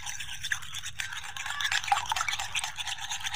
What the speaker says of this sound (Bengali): আমি একটি ডিম নিয়েছি, এই ডিমটা ভালো করে ফেটিয়ে নিব